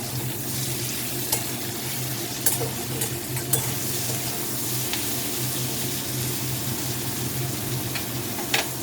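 Potatoes and yardlong beans fry in a pan and are stirred now and then, giving a steady close sizzle broken by a few sharp scraping clicks, with no voices.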